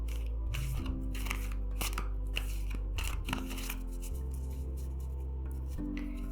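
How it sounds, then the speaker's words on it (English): Tarot cards being shuffled by hand during a full moon reading, a series of soft papery riffles and slaps close by over a low steady hum, with no talking. "I'm going to shuffle my cards a little bit here."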